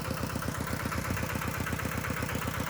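A small walking tractor engine used for pumping water idles steadily nearby, a low, even chugging beat with a knocking quality that holds without break throughout.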